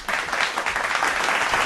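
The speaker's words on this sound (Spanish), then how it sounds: "¡Ay, qué lindos aplausos!" Audience applause breaks out for a guest on a live talk show, a dense, steady wash of many hands clapping at once that holds evenly from start to finish.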